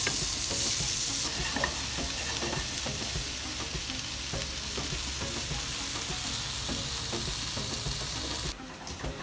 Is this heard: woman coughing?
no